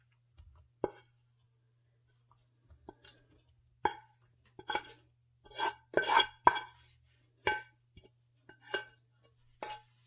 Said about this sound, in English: Let's get the stirring. Get everything nice and incorporated.